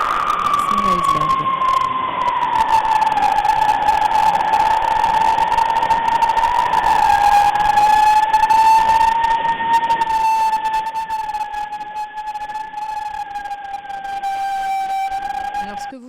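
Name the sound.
iceberg sounds, sped up to be audible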